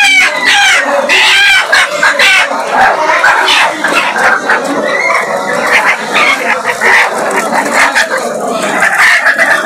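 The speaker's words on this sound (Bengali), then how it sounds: "কক কক শব্দ করে, শব্দ করতেছে।" Desi hens cluck and cackle continuously at a busy poultry market, close and loud, with rooster-like calls and other birds mixed in and people talking over the din.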